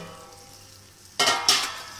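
Neem flowers hit a hot oiled pan and burst into a loud sizzle after a quiet moment, with a second surge of hissing as they are stirred.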